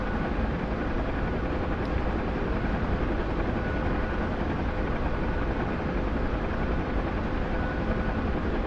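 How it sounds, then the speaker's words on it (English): Chinook helicopter in a video game, a steady loud rotor drone and engine roar holding constant throughout, with no voices. "We got rescued by a Chinook."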